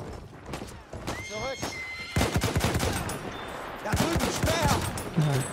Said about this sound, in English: Oh, there's a horsey.